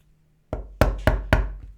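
A small pin is tapped into an Airtac HPA adaptor for an airsoft M4 GBBR, giving one soft knock followed by three sharp, close metallic raps at an even pace.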